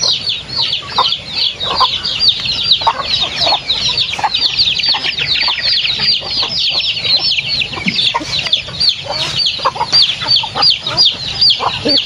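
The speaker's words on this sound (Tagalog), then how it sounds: "And then dito naman tayo nagpapakain ng ating alagang manok." Pet chickens cluck steadily at feeding time, a dense, close chorus of overlapping clucks and chirps continuing throughout with no pauses.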